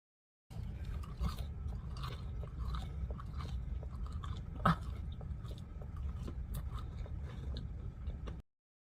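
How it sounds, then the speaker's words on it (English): Loud, wet chewing of Hardee's fast food goes on close to the listener, steady crunching and smacking mouth sounds with one sharper bite midway, no talking. "How do you chew so fucking loudly?"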